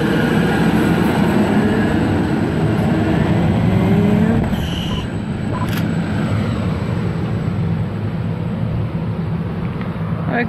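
A train pulls away from Douglas Park Station on an all-stations service to Moss Vale, a loud, close rumble and wheel noise that fades slightly as it departs, with no talking.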